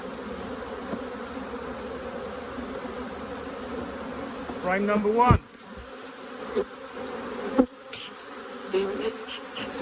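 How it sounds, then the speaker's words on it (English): Robber bees buzzing around an open beehive during hive work, a close, continuous insect drone with a few louder passes and handling knocks, while a voice speaks briefly. "the robber bees are all surging around here looking for a free meal"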